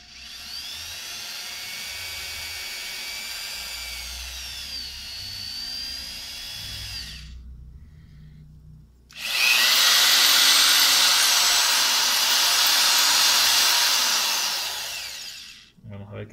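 A small drill boring holes into a handmade bomber-style fishing lure, two sustained high whining bursts separated by a short pause, the second louder and closer, the motor pitch shifting slightly under load.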